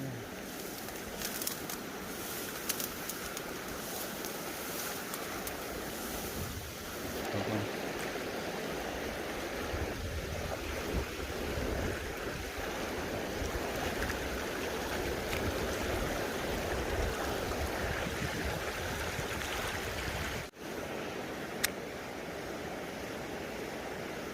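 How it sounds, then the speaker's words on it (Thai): River water rushes steadily, a continuous broadband flow at moderate volume, with faint birdsong in the distance. "น้ำไหลครับ"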